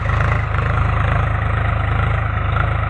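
A tractor engine idles close by, a loud, steady low chugging with an even rhythmic throb and no voices.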